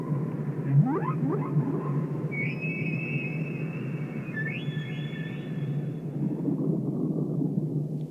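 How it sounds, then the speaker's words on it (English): Humpback whales sing underwater, rising tonal calls and sweeping upper moans drifting over a steady low rumble of ocean noise, with a few short squeaky sweeps near the start. "the stunning impact of both sight and sound of humpback whales"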